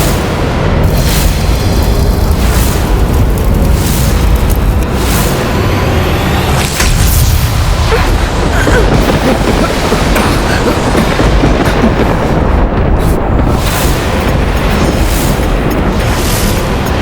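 A huge Brahmastra explosion effect from a televised Hanuman mythological drama booms and rumbles continuously, with repeated loud crashing impacts over a dense roaring wash of sound.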